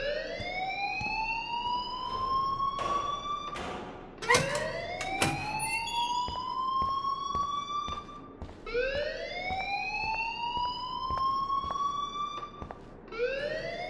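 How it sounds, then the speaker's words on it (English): A fire alarm wails in a Life Is Strange school scene, its tone sweeping upward again and again in a steady loop, loud and close, with a few sharp clangs partway through. "please turn off that alarm since that's your job"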